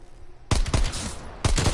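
Gunfire in Call of Duty Cold War Zombies: two loud, close bursts of rapid shots, each fading into a short echoing tail, with no talking.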